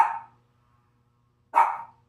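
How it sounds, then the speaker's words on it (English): A single dog gives two sharp barks about a second and a half apart, close and fairly loud against near silence. "Why are you barking?"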